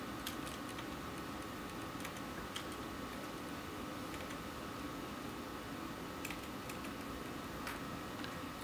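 Keystrokes on a computer keyboard while a date is entered into a form: faint, scattered clicks in uneven bursts over a steady background hiss.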